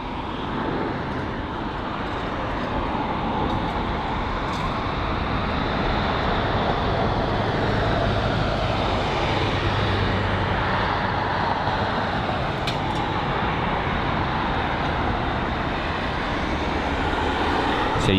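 A jet airliner departing runway 09 right at London Heathrow, a loud continuous broadband engine roar that holds steady and swells slightly across the whole stretch, heard from nearby.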